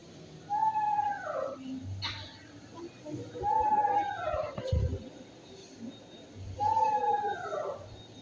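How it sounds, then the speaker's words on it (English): Three descending, wavering whistled eastern screech owl calls repeat at even intervals, clear and fairly near over quiet outdoor background with faint noise. "they make this wavering whistle type call that sounds like this"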